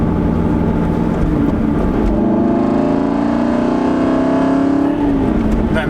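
An Aston Martin V8 Vantage sports car engine, loud and close, holding a steady drone that climbs gradually in pitch over several seconds as it revs, then drops off near the end.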